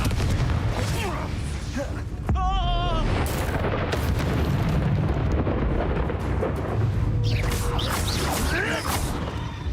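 Repeated Confringo explosion spells in the Hogwarts Legacy game boom and rumble continuously like heavy thunder, with whooshing magical swirls and crackles on top, loud and dense throughout, a voice calling out at times.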